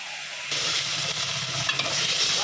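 Potatoes sautéing with spices in a pan; after a short quiet start, a sudden close sizzle sets in and carries on steadily with light stirring and no talking.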